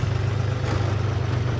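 Tractor engines idle in a queue at a grain market at night, a loud, steady low diesel rumble that holds close and unbroken with no voices.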